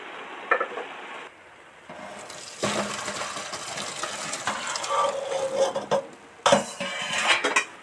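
Water drains off boiled soybean chunks through a strainer in a kitchen, with a rushing, splashing pour and metal utensils clattering in bursts. The sound is close, and no one speaks.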